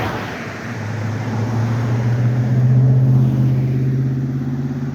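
A car idles and rumbles steadily at the roadside, its low engine drone swelling slightly in the middle as traffic slows and stops nearby, with no voices over it.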